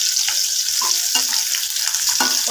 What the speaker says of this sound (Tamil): ஒரு 5 நிமிஷம் இது நல்லா வதங்கட்டும்